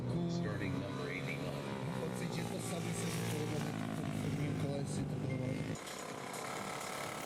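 A kid's motorcycle revs and buzzes around a MotoGymkhana track, its engine note rising and falling under narration before dropping off toward the end.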